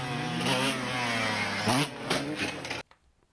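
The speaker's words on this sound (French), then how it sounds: "Petit 2 temps, petit wheeling direct." Small two-stroke motorcycle revving hard while pulling a wheelie, a loud, close, rising engine whine with shifting pitch for nearly three seconds before cutting off abruptly.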